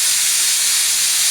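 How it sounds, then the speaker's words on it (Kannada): Steam rushes from a pressure cooker's whistle as an even, loud, unbroken hiss that holds its level from start to finish, with no talking over it. "ಕುಕ್ಕರ್ ವಿಷಲ್ ಹೊಡಿತೈತಿ ಇಷ್ಟೋ ತನಕ."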